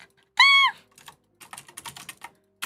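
Computer keyboard typing during cafe prep work, a run of irregular key clicks in the second half, preceded by a brief squeaky tonal chirp; no talk.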